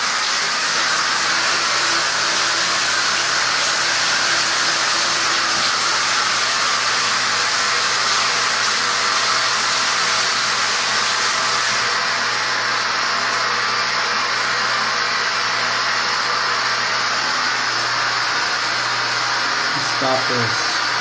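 Continuous loud steady hiss from a shower steam generator, unbroken throughout, with a faint background tone and a short sweep at the end.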